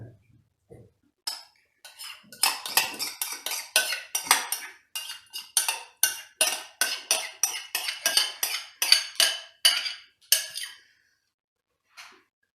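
A spoon stirs yogurt into a dish of chicken and potatoes, scraping and clinking against the bowl in a quick, regular rhythm of close strokes before slowing to a few last taps.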